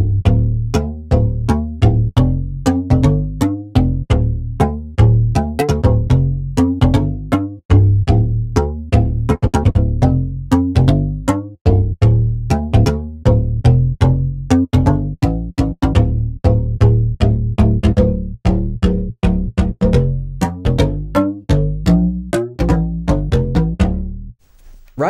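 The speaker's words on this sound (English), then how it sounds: "and this is chorus bass." Soundpaint chorus bass synth patch with detuned layers run through chorus and distortion, playing a steady rhythmic sequence of punchy, thick low notes with buzzy overtones, loud and alone for about 25 seconds.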